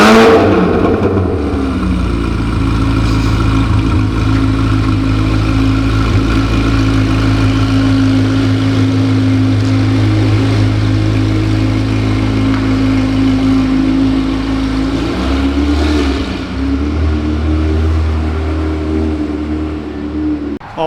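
A Chevrolet Corvette C8 Z06 exhaust rumbles loudly and deeply at a steady idle after starting, heard from inside the car, then its pitch shifts and swells briefly near the end with a rev.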